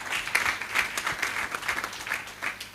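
Audience at a business conference panel applauding, a fairly faint, even patter of many hands clapping from a distance, with no voices over it.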